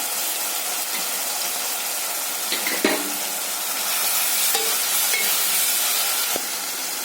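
Steady sizzling of onions and tomatoes sautéing in a hot pan, with a few faint stirring clinks over the constant frying hiss.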